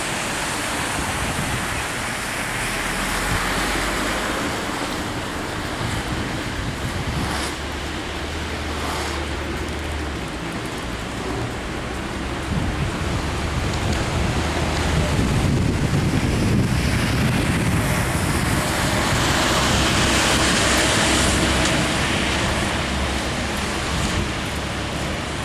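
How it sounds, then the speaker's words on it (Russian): Rain falls steadily outdoors in a park in Riga on a winter morning, a dense, even wash of noise with some wind gusts and no voices. "На улице дождь."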